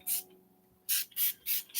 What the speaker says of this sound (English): So we're going to spray this.